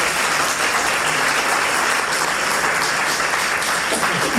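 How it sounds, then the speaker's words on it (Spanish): Loud, sustained applause fills a hall at the close of a museum lecture day, with many hands clapping evenly and continuously throughout. "Un fuerte aplauso, por favor."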